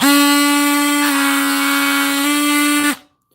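Oscillating multi-tool running at full speed, a loud steady high-pitched buzzing whine with a slight dip in pitch midway, then cutting off abruptly near the end.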